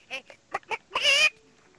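A human voice imitates chicken noises: a few short clucks, then a longer squawking crow, close and loud.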